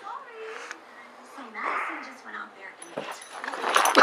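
A dog whimpers and gives short yips, fairly close, broken into several squeaky bursts that grow louder toward the end, with someone talking over it.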